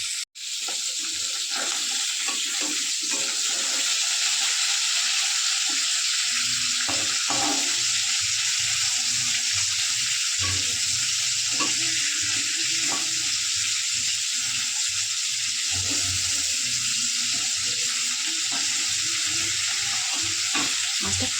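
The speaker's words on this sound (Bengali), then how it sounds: "এবারে নুন হলুদ মাখানো মাছটা দিয়ে দিই। মাছটা হালকা করে ভেজে নেব।" Koi fish rubbed with salt and turmeric fries lightly in moderately hot oil, a steady close sizzle with crackling pops and soft clinks of a utensil, continuous throughout with no talking.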